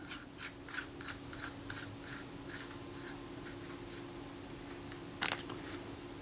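Faint, rhythmic small clicks of a lens part being screwed back into the mount of a Retina Reflex S camera, several light ticks close up followed by one sharper click.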